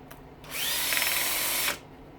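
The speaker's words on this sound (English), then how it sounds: "Take 2 screws out, a little piece of sheet aluminum." A power drill backing screws out of the sheet aluminum housing of a fogger, one close whirring burst of about a second with a sharp start and stop and brief handling noise around it.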